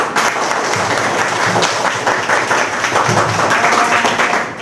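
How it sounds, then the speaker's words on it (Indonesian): A class of teacher trainees gives loud, dense, continuous applause that stays even and close for several seconds. "Oke, tepuk tangan. Tepuk tangan lagi"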